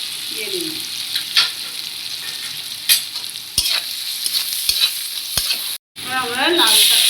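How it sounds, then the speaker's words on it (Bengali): Sliced onions sizzle in a hot pan with salt and turmeric while being stirred, a bright frying hiss broken by sharp scraping clicks of a spatula, with a brief gap near the end. "পেঁয়াজটা একটু লবণ দিয়ে দিই, তাড়াতাড়ি পেঁয়াজটা নরম হয়ে যাবে।"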